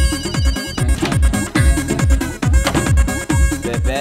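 A mobile phone ringtone plays loud and close, a repeating electronic melody of rising tones in a steady rhythm, with nothing else heard over it.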